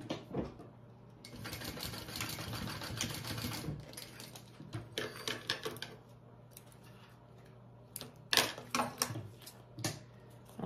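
A sewing machine basting a zipper onto a bag in bursts, a fast rattling stitch run, then shorter stop-start stitching near and moderately quiet, no talking.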